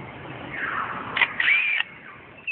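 A male lyrebird in a forest imitates a camera with a motor drive. A rising whir builds into clicks and a sustained mechanical buzz that lasts about a second before stopping abruptly. It is close and clear, with no talking.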